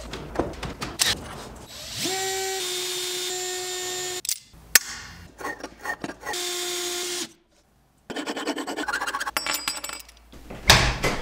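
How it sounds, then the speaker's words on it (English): Hand-working a GoPro lens adapter to fit an Insta360 camera: bursts of close, loud motorized grinding and buzzing with tonal whine alternate with gaps, scraping and clicks, pausing briefly to near silence before resuming. "after much filing and sanding, this GoPro lens adapter now fits on the Insta360."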